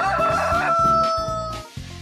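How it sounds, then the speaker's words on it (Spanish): A farm rooster crows loudly and close by, one long drawn-out cock-a-doodle-doo over backing music. "Siempre lo hacía cuando cantaba su gallo, Kikiriko."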